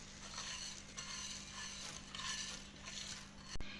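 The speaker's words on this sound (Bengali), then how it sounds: "তো এবার আমি আগে থেকে ভেজে রাখা চালটা এখানে অ্যাড করে দিচ্ছি।" Pre-fried rice being tipped into date palm juice boiling in a pot on a low flame, heard as soft stirring and scraping with a faint steady hum and one sharp clink near the end. No one speaks.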